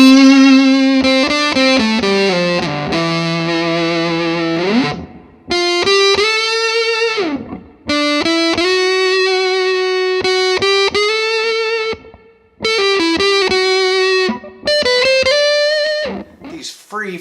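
Electric guitar played through an EHX Triangle Big Muff Reissue fuzz pedal, with volume rolled back and sustain at noon: thick, sustained distorted chords and single notes ringing in loud phrases separated by short pauses.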